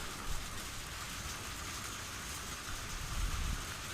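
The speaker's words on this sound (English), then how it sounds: "It's pouring, but it doesn't look like it's going to last long since the sky over there is clear." Heavy pouring rain from the game Higurashi, a steady dense hiss that fills the whole clip without a break, with faint low rumbles now and then beneath it and no voices.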